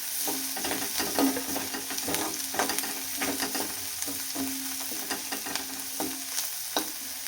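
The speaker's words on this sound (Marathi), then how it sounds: "तर अजून मी अर्धा मिनिटं कांद्याला परतून देते." Onions sautéing with bitter gourd in a pan for a vegetable dish, a steady close sizzle broken by repeated scraping stirs of a spoon against the pan, with no talking.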